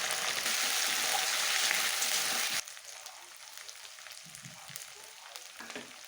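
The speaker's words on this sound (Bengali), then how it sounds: "তো এই যে এখন আদা রসুন বাটা দিয়ে দিচ্ছি, এটা একটু ভেজে নেব।" Ginger-garlic paste for a vegan jackfruit curry hits hot oil in a pan with a loud, close sizzle that drops to a quieter crackle and spatter after a couple of seconds.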